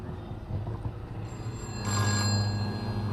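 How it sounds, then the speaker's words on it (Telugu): An incoming call sets a telephone ringing, a thin, steady electronic ring that starts partway through and holds at moderate loudness over a low background hum. "ఒకసారి మరి శ్రీదేవి గారి దగ్గర నుంచి ఏమన్నా కాల్ వస్తుందో రాదో చూద్దాం."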